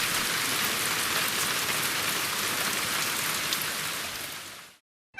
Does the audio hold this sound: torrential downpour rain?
yes